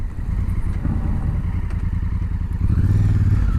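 Honda Africa Twin adventure motorcycle engine idling and pulsing at close range while the rider locks the rear wheel and slides it around to turn, a steady throb that swells louder near the end.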